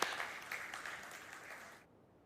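A conference audience applauds its sponsors at a PowerShell event, a fairly faint spread of clapping from a crowd that fades out after a couple of seconds into near silence.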